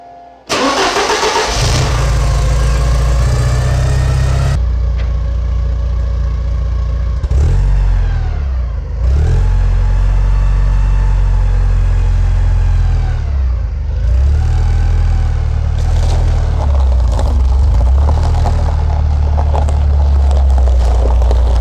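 A 1987 Porsche 944 cranks and fires up inside a garage, settling into a loud, close idle with several throttle surges and rumbling as it pulls out, engine steady throughout.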